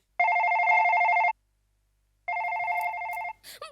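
A telephone rings in two long electronic bursts separated by a pause, loud and close, followed by a brief rustle.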